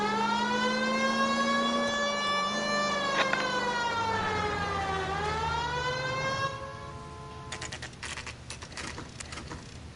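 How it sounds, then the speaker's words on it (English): Wailing police car siren from an LAPD detective video game on PS4, a loud rising and falling electronic tone that sweeps steadily for several seconds, then cuts off, leaving engine rumble and scattered clatter. "I think we need a siren."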